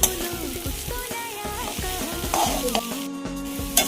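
Carrot halwa is stirred continuously in a pan, with a metal spatula giving repeated rhythmic scrapes and squeaky ringing tones over a low sizzle. The sound is close and steady, with no talk.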